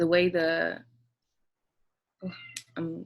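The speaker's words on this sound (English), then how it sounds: "excuse my cat in the back." A house cat meows twice in quick succession, a clear close call, then meows again after a pause, with a person talking briefly between the meows.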